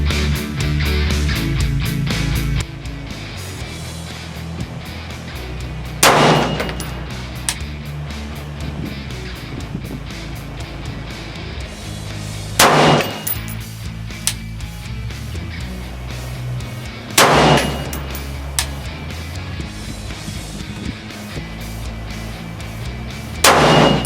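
Four loud, sharp AR-15 rifle shots ring out at an outdoor shooting range, spaced several seconds apart over a steady rumbling background.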